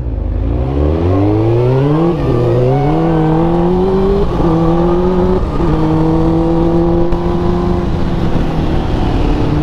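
A 2001 Suzuki GSX-R 600 K1 sport motorcycle being ridden, its engine loud and close, rising through the revs in smooth climbing pulls with brief dips at gear changes, then holding a sustained high drone.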